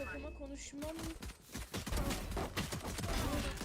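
Gunfire in the game Valorant, a rapid burst of shots building into sustained fire, fairly quiet, with game tones and brief talk at the start.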